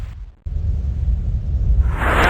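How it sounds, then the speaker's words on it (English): An internal ammo explosion inside a mech in the video game MechWarrior 2, a low rumbling blast that cuts off abruptly, resumes and builds into a bright, roaring burst toward the end. "did I just get an internal ammo explosion?"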